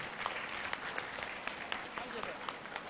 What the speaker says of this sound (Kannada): ಮತ್ತೊಂದ್ಸರಿ ಜೋರಾಗಿ ಚಪ್ಪಾಳೆ ಹುಡುಗಿಗೆ